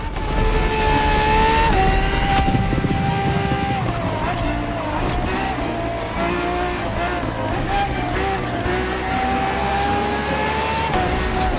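A Ferrari race car in The Crew Motorfest revs loud and close, its engine whining up and down through gear shifts with brief tire squeal, steady and unbroken throughout.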